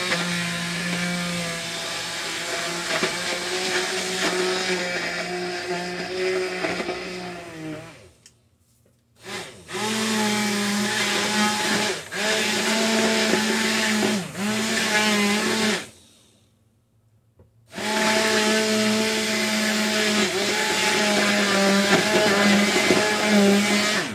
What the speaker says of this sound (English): be careful using the submergible blender